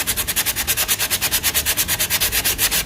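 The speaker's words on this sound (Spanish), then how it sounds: "usamos una lija de mano con las manos y vamos bien. Así vamos a lijar todos los laterales" Sandpaper held in the hand is rubbed briskly over the sides of an old baroque wooden altarpiece, making a steady back-and-forth scratching at about seven strokes per second, close and continuous, with no voices.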